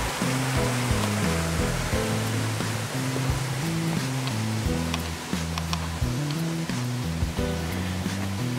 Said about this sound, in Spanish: Ya pueden escuchar el sonido del agua.